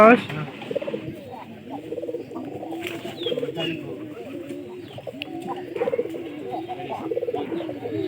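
Pigeons coo steadily in a loft, with layered overlapping calls and soft wingbeats or shuffling, moderately close.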